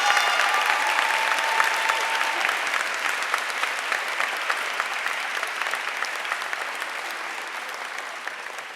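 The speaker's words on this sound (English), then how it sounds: "Let's give them a round of applause." Audience clapping at a high school senior awards ceremony in a hall, a sustained round of applause that holds loud and steady for several seconds, then gradually thins toward the end, with no voices over it.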